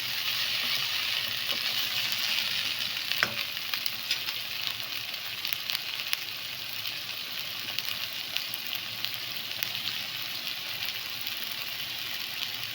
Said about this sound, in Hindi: ऑनियन सॉफ्ट हो जाएगी तो अब हम इसमें टमाटो ऐड करेंगे।